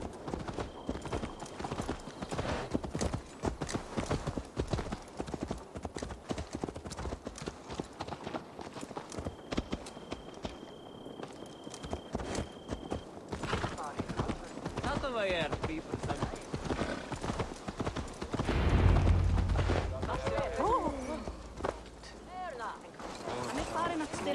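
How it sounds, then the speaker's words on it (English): Horse hooves clip-clop in Assassin's Creed Valhalla, a steady rhythmic trot running under game music and ongoing character dialogue, moderately loud throughout. "Let's return the horse."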